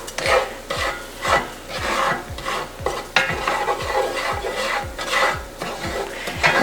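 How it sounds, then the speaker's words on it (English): A wooden spoon stirs a roux in a pan, making repeated rhythmic scraping strokes over a light sizzle, close and fairly loud. "Now for this part, I just use a wooden spoon."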